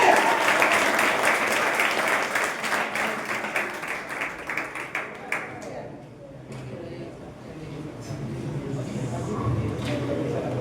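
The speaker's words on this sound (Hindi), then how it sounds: "कृपया जोरदार ताली बजाकर उसका स्वागत" Audience at a Teachers Day event gives loud, sustained applause welcoming a contestant, dense clapping dominating the first half before thinning to scattered claps under crowd murmur and voices.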